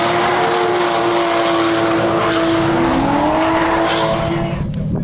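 A car drifts with its tires squealing in a sustained, wavering whine over a loud, continuous engine roar for a few seconds.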